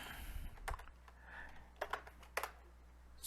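Sparse keystrokes on a computer keyboard during a hacking walkthrough, a few isolated clicks around the start and then small bursts near the middle, close and quiet over a low steady hum.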